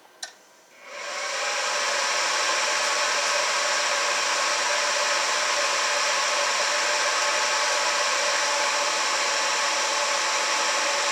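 A fiber laser marking machine powers up after a brief click, quickly rising into a loud, steady, broadband whirring hum, like a fan or blower, that holds constant without interruption.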